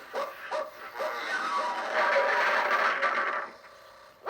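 Pluto, the cartoon dog, gives a few quick barks close up, then a longer run of scraping and whimpering yips, with one more bark at the end.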